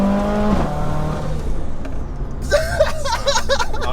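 A 630bhp big-turbo Mercedes A45 AMG with a screamer pipe, heard as an engine note that pulls and sweeps, then sharp, raspy bursts from the exhaust near the end.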